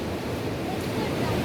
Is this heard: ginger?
no